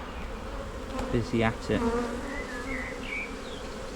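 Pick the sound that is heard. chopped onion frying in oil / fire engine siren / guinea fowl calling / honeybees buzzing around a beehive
honeybees buzzing around a beehive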